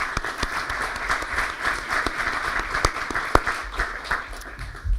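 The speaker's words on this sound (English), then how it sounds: "let's give a round of applause for them for helping us out" Audience applause at a large event, a steady sustained wash of many hands clapping with a few sharper individual claps standing out, moderately loud throughout.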